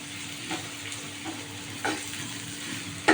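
Onions fry on a raised flame while being stirred, with a continuous sizzle broken by several scraping strokes and a sharp clatter at the end, close by and with no talk.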